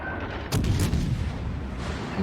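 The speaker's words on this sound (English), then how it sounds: "Just got to watch the volley coming in from your starboard side from the enemy battleships." A volley of naval artillery from enemy battleships in World of Warships Legends lands around a French battleship, a sudden burst of several heavy booms and cracks after a quiet start, followed by a rumbling tail.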